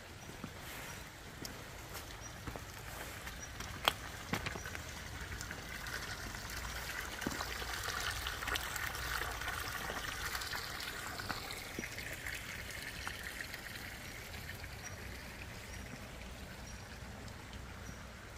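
Rain falls at a garden care farm on a rainy day, a steady soft hiss of drops with occasional louder drips and trickling water, quiet and continuous without talk.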